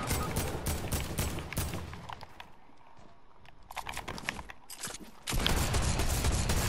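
Shotgun blasts in the Fortnite video game, a series of sharp, loud bursts in quick clusters with a quieter gap in the middle and a dense volley at the end.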